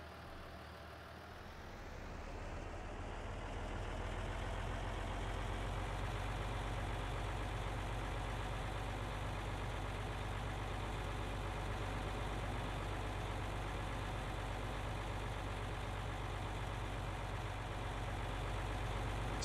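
A tractor with a CVT transmission in Farming Simulator 22 rumbles steadily, its engine swelling over the first couple of seconds and then holding an even, continuous low drone with no gear changes.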